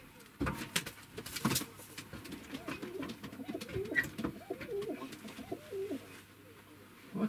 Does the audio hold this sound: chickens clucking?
no